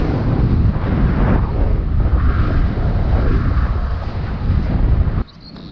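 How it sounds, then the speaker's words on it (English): Loud, roaring wind buffets the microphone during a cycling ride in the Lincolnshire Wolds for several seconds, then cuts off abruptly near the end. "Wow, that was getting windy."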